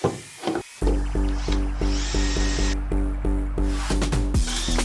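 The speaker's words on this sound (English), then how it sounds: "These should easily screw themselves into the hole you've drilled, but my hole was rough and it's right next to the wood, so I am struggling." A cordless drill drives metal furniture screws into rough drilled holes in pallet wood for a garden bench, a steady pulsing whir in short repeated bursts, close and loud, with brief clunks at the start and end.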